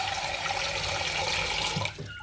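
Water pouring into a pot of washed rice, a steady close splashing rush lasting about two seconds before tapering off, with no talk.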